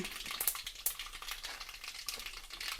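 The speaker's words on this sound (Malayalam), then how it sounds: "കടുക് പൊട്ടി വരട്ടെ" Mustard seeds splutter in hot oil with a steady, close sizzle and a few sharp pops, while a spoon stirs now and then.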